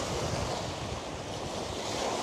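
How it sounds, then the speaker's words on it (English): Waves roll steadily on a large lake, a continuous broad wash of surf with wind noise on the microphone, fairly loud and unbroken for a couple of seconds with no voices. "there are actually waves in this thing because it's so big that it acts like a little ocean"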